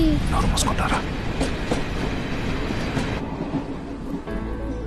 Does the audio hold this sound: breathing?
no